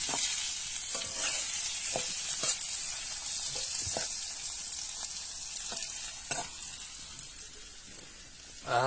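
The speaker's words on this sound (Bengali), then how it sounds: "দিয়ে আলুও দিয়ে দিয়েছে, দিয়ে কষিয়ে নিচ্ছে পুরোটা" Potatoes and spices being stir-fried kosha-style in a pan, a steady loud sizzle throughout with repeated scraping strokes of a spatula at irregular intervals.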